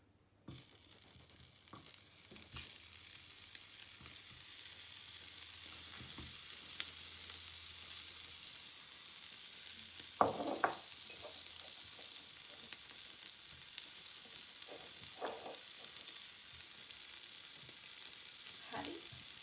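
Garlic sizzles in butter in a pan, a steady close hiss running for the whole stretch, broken by a few spoon scrapes and stirring knocks. Nobody talks over it.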